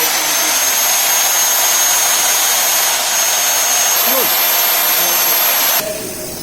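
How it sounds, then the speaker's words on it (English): Hole cutter drilling holes in a metal panel gland plate, producing a loud, steady broadband whine that runs nearly unbroken before cutting off abruptly just before the end. "now we are going to make hole. As you can see, different holes with different size."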